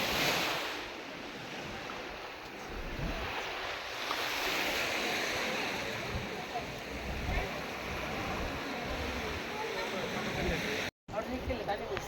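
Ocean waves wash onto the beach near Someshwara in a steady, loud roar of surf with wind buffeting the microphone throughout, briefly cutting out near the end.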